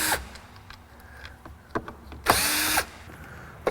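A power drill backs screws out of an Acura Vigor blower motor in a car, with short whirring bursts, one longer spin, and scattered clicks and knocks in between.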